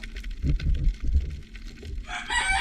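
A rooster crows loudly over a busy, rumbling background, the bright crow rising near the end and holding strong.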